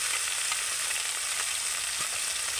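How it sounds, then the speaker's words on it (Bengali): Spice paste for an egg curry fries in oil over low heat with a dense, even sizzle, and a couple of faint stirring scrapes are heard near the close. "মশলাটা আমি তেলের মধ্যে এইভাবে নেড়ে দেবো"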